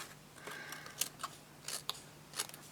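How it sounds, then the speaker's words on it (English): Scissors trim card paper for a handmade card, a few quiet, close snips and crisp cuts spaced irregularly over a soft background. "I'm just going to trim this down like so"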